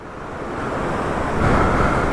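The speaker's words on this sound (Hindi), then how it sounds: "ये देखो वाटर स्ट्रीम, बहुत ज़्यादा पानी है" Rushing mountain stream running high with water beside a road on the Spiti route to Chandratal during the monsoon, a steady broad roar that swells slightly louder partway through, with some wind buffeting the microphone.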